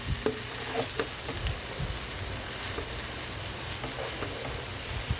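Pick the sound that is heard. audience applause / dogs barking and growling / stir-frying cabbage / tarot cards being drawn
stir-frying cabbage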